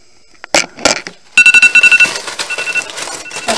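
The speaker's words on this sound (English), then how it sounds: "My timer." A kitchen timer alarm goes off after a few clinks, beeping loudly and close in a steady rapid series of pulses that slow slightly toward the end, with no talking.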